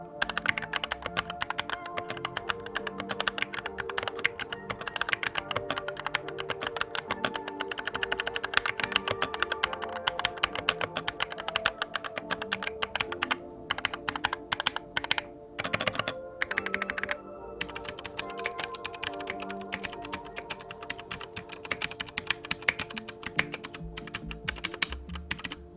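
Rapid, steady mechanical key clatter from Glorious GMMK2 65% and 95% and GMMK Pro keyboards during a typing test, dense and close with no voices.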